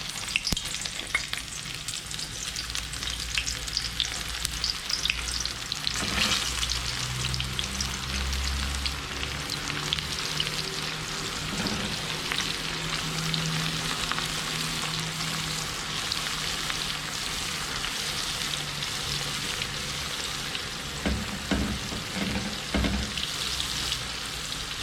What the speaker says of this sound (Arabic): دابا غادي نقليوها